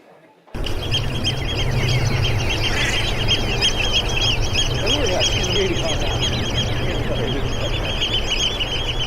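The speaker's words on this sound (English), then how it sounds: "And that is the common shell duck." Loud, continuous honking and calling from several common shelducks at once, nasal and chattering, with no pauses across the whole stretch.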